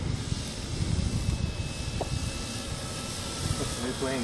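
A Precision Aerobatics Addiction XL model airplane drones in flight on a windy day, its engine a faint steady hum under heavy wind buffeting, with someone talking over it.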